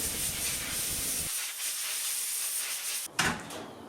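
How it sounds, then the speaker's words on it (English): Air hose blowing sanding dust off a forged seax knife blade, a steady close hiss of air lasting a few seconds, then cutting off with a brief bump and a short second blast. "I'll use an air hose just to get any excess dust out"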